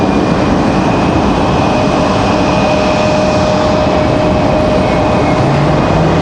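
American Airlines flight 1998 from Chicago arriving at Raleigh-Durham airport, a loud, continuous broadband jet roar with faint steady whining tones, sustained and unbroken throughout, no voices.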